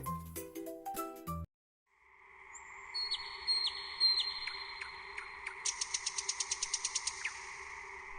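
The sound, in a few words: nightingale singing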